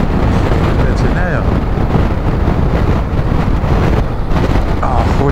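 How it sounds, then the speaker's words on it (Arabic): Strong wind roars steadily and loudly across the microphone on a road heading south in Morocco, gusts carrying dust with only a few light raindrops, a continuous buffeting rush with no voices. "الريح فيها التراب"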